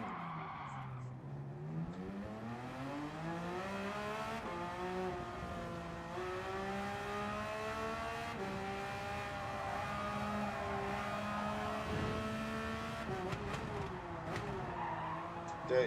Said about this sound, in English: We're just going to sit here doing donuts.